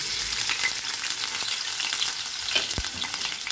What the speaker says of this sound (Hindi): ऑयल हमारा गर्म हो चुका है, अब हम इसमें अदरक लहसुन का पेस्ट शामिल कर देंगे।